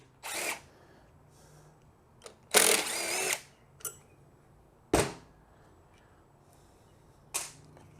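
Short bursts of a small power screwdriver backing screws out of the filter cover on a Craftsman lawn mower carburetor, several separate whirs with quiet gaps between them and no talking.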